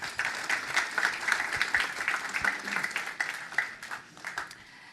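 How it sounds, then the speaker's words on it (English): An audience at an annual meeting breaks into sustained applause, a dense, steady patter of many hands clapping that fades slightly toward the end. "And I think we can begin with an applause and gratitude."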